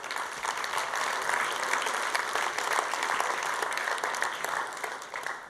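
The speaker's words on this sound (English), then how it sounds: "Please applaud." Sustained applause from a conference audience at an EU congress on domestic and home care, even and full throughout, tapering slightly at the end.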